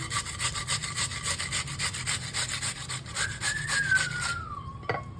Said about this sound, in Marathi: आता मी मस्त खिसून घेते काकडी जरा जाडसरच घेतली खिसलेली